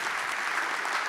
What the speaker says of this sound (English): So I want to give them a big round of applause